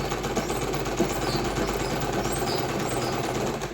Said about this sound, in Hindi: यहाँ से स्टार्ट करेंगे और यहाँ कोने कोने पे ऐसे सिलाई लगा लेंगे